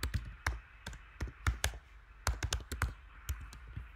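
Typing on a computer keyboard while working in a graphics program, close and quiet, with irregular clusters of crisp key taps and short pauses between them.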